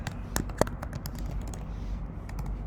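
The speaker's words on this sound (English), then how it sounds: "we're going to add some typing to the document" Typing on a computer keyboard while working in Google Docs, a close run of quick uneven key clicks over light background hiss, no voices.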